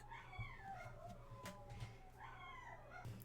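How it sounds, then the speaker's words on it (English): Several rescue dogs in a house howl and whine in faint, rising and falling wails that repeat over a few seconds, heard from a distance with no talking. "There are dogs howling."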